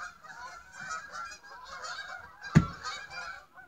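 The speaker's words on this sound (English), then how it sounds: "Canada geese." Canada geese honking in a loose, continuous chorus of overlapping calls, with one sharp louder burst near the end standing out from the steady flock noise.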